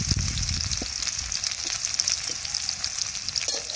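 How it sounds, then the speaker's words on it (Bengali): Chopped onion and garlic fry in oil with bay leaf, whole cumin and cardamom, giving a loud, continuous close-up sizzle with no pauses. "পেঁয়াজ রসুন ভালোভাবে ভেজে নিই।"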